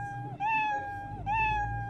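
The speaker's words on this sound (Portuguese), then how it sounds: "toque o som miau até o fim" Two clear, close cat meows from a Scratch program play one after the other, each a rising-then-falling tonal call with a brief gap between them and no talking.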